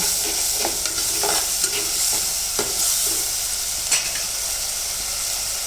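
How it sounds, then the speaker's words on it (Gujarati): Tomatoes are stirred into masala frying for dal tadka: a continuous loud sizzle broken by repeated scraping strokes of the spoon against the pan, close up, with no talking. "અને ટામેટા એડ કરું છું"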